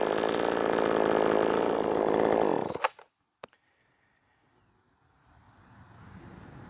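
A Wemars 6220 clone chainsaw runs at a loud, steady buzzing drone, then suddenly cuts off, followed by a couple of sharp clicks and near quiet with faint background noise.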